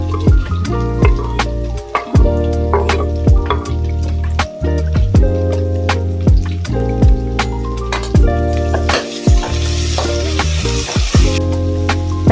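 Tomato, potato and capsicum frying in oil for veg biryani, with a steady close sizzle and occasional stirring scrapes under prominent background music.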